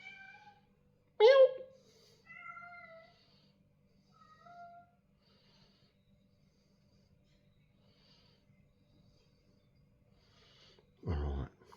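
A person imitates a cat's meow with a few short drawn-out mewing calls amid light talk in a quiet room while painting an Australian outback bush scene in acrylics.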